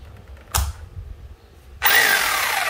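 A three-function concrete hammer drill gives a short burst, then after a pause starts up and runs steadily with a bright whine, close and loud.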